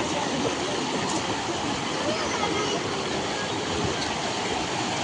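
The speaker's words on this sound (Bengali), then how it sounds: "ওই দেখো জলের কিলা স্পিড।" Fast floodwater rushes over the Ratanpur road in Hailakandi during the 2025 flood, a loud, unbroken broadband roar with no pauses. Voices are faintly mixed in.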